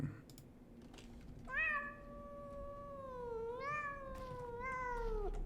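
A cat meows in the video game Pathologic 2, with two drawn-out, rising and falling meows standing out clearly over a low background hum and some faint clicking.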